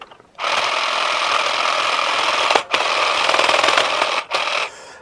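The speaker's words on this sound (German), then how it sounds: "Und bei denen hier will ich jetzt mal die Säge probieren." A Bosch cordless hedge trimmer's saw attachment cuts through a thick hedge branch, giving a loud, steady buzzing whir that dips briefly twice before trailing off at the end.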